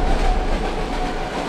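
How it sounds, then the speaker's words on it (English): A train rumbles past nearby, a steady loud rolling roar with a faint clickety-clack of wheels throughout. "the train passing by"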